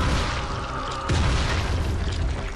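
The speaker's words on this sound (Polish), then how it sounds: "Co to są za typki, którzy tak szybko biegną i się wybuchają?" An exploding zombie blowing up in the video game Dying Light, a deep booming blast that swells partway through and rumbles on, loud and without speech.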